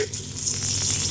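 Prawns go into a hot pan of cooked greens, a loud continuous hiss and crackle of frying that swells as they land.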